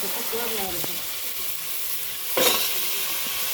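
River crabs tipped into a hot pan for a crab curry, giving a steady close sizzle with a sharper hissing burst midway, while a voice murmurs faintly in the background.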